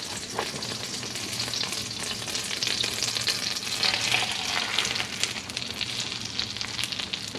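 Chicken frying in a pan, a steady dense sizzle and crackle with constant splattering spits, close and loud throughout with no talking.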